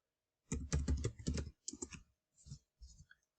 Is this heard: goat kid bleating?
no